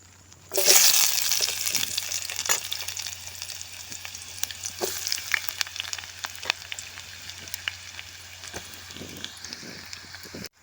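Onions frying in a pan at a forest campsite sizzle loudly as they hit the hot oil, then settle into a steady crackle with scattered pops and scraping stirs, with no talk.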